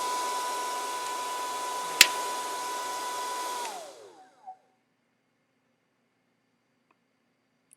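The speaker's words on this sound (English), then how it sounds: "I'll sit under the dryer and let y'all know how it goes" A steady, whooshing Conair soft bonnet hair dryer blows for about four seconds, then switches off with a click and fades into silence.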